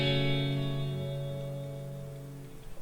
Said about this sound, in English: It's early reverb.